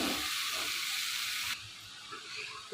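Chopped water spinach (kalmi greens) tipped into hot oil with fried ginger and salt, giving a loud broadband hiss that drops sharply about halfway through as the greens cool the pan, then a softer steady sizzle continues.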